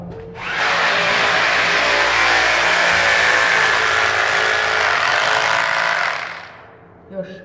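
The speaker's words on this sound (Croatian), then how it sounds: "Dobro, hoćeš bušiti ti, Dijana, ili nećeš?" A power drill runs at full load for about five and a half seconds during a workshop build, a steady, loud, harsh whir that starts and stops abruptly, with a brief voice heard just after it stops.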